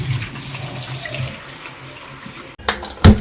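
Running tap water splashes over something being washed, with a couple of louder sloshes and knocks near the end.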